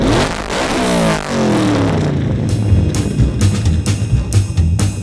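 A Herb Smith Fab off-road race truck built for the Mint 400 desert race revs hard, its engine rising in a loud climbing sweep, then barking through a string of sharp throttle blips close by.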